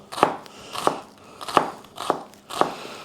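A knife finely chops onions in a kitchen: about five crisp, crunchy strokes fall at a fairly even pace. Each cut is distinct and close, with quiet gaps in between and no talking.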